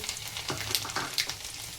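Garlic sizzling in hot oil during tempering for a Gujarati black-eyed bean curry, along with mustard seeds, cumin and asafoetida: a close, bright frying hiss with small crackling pops and stirring bursts.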